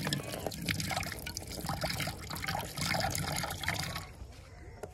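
Water trickles and pours into a bowl set out for pigeons beside their grain, a steady close liquid stream with splashy dribbles, fading toward the end.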